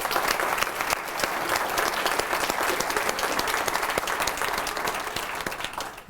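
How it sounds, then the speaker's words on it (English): A town hall audience applauds after a fall speech, steady dense clapping sustained for several seconds, loud and close, tapering slightly at the end. "Can we just give him a round of applause"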